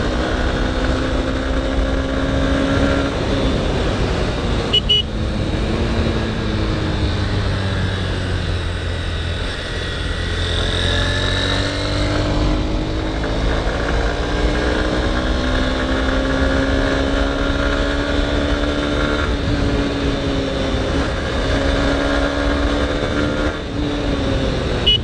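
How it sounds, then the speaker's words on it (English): A Honda Hornet 2.0 motorcycle engine gives a continuous, fairly loud induction roar while riding, its pitch rising and falling smoothly through gear changes, with steady wind rush and no talk. "Really like the sound that's coming out from the engine, that induction roar."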